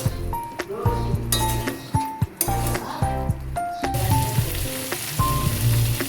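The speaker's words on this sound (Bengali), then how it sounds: "সোয়াবিনটা দিয়ে 1 মিনিট মতন কষিয়ে নেব।" Soybean chunks fry in a pan with a steady sizzle while a utensil stirs them, scraping and clinking against the metal in irregular strokes at close range.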